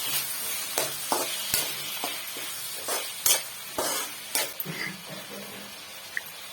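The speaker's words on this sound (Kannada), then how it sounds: "ಈಗ ಇದಕ್ಕೆ ಹೆಚ್ಚಿರುವಂತ 2 ಟೊಮೊಟೊ, ಈಗ ಇದನ್ನ ಚೆನ್ನಾಗಿ ಮಿಕ್ಸ್ ಮಾಡೋಣ." Two chopped tomatoes stirred into onions in a frying pan, repeated spatula scrapes and knocks in a steady rhythm over a soft background sizzle.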